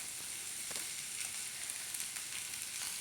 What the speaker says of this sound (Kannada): ಇದನ್ನು ಫ್ರೈ ಮಾಡ್ಕೊಳ್ಳಿ ಚೆನ್ನಾಗಿ ಫ್ರೈ ಮಾಡ್ಕೊಬೇಕು